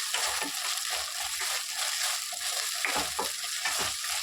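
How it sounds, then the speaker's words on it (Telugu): Curry leaves and ginger paste fry in a pan for a sprouted fenugreek curry, giving a steady, close sizzle and crackle with intermittent stirring scrapes throughout, no talking. "కరేపాకు వేసుకొని ఫ్రై చేసుకోవాలండి"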